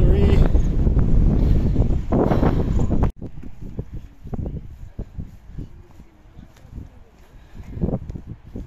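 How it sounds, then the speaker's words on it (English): Blustery coastal wind on a cliff hike at Bundoran buffets the microphone in a loud roaring rush, then drops to gusty rumble as someone talks over it. "It's a bit blustery."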